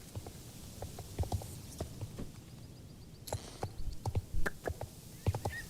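Horse hooves clip-clop at a steady walking pace in the online game Star Stable Online, with soft thudding steps that speed up and grow slightly louder toward the end.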